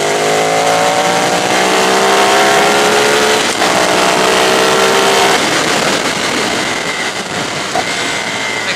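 A Ducati 848 Streetfighter motorcycle accelerates hard and alone, its engine climbing in pitch through repeated sweeps with brief gear-change dips, loud and close throughout.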